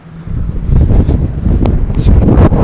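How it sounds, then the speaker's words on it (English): Strong wind roars and buffets the microphone outdoors beside a 2022 Hyundai Elantra N, a loud low rumble rising and holding steady throughout with no voices. "very windy outside"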